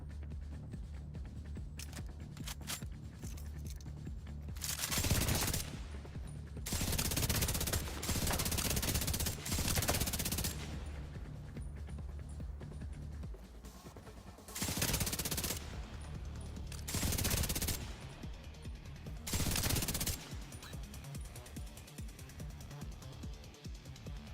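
Automatic gunfire in the Division 2 shooter crackles in several loud, sustained bursts separated by quieter pauses, close and harsh, with a faint low drone between volleys.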